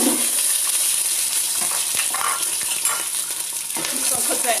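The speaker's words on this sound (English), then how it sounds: "So since I hear my oil getting hot, I'm going to actually put my onions in." Chopped onion frying in hot oil in a home kitchen pan, a steady close sizzle with light stirring and scraping clicks throughout, no talking.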